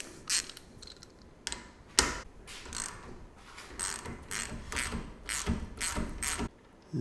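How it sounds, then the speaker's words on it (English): Mechanical clicking and ratcheting from a bolt being undone out of a stripped aluminium thread in a garage, with repeated sharp broadband bursts in an uneven rhythm, fairly close and moderately loud, no talk. "let's take the bolt out,"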